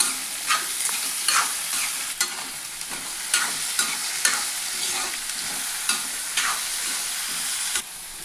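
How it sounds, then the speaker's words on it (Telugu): Carrot and potato pieces fry in a pan with a steady close sizzle, broken by repeated scraping stirs every second or so; no voices. "క్యారెట్, ఉల్లగడ్డ ముక్కలు వేసేసాం. ఈ వేగిన తర్వాత చిక్కుడుకాయ ముక్కలు పోస్తాం."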